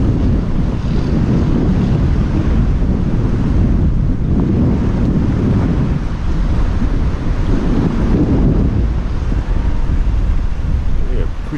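Strong wind buffets the microphone at the coast, a loud continuous roar with gusts swelling and easing, mixed with surf, and no clear talk over it.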